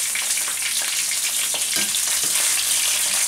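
Sausage browning in a pan for a marinara sauce, giving a steady, loud sizzle and crackle that fills the whole stretch, with occasional stirring scrapes and no voices.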